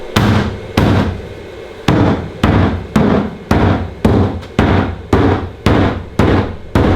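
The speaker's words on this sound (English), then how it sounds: "I think we need to hammer this out more so that the wheel actually fits." Repeated heavy metallic hammer blows on the wheel hub of a BMW E92 335i, about a dozen loud, sharp strikes in an uneven rhythm, each ringing briefly before the next.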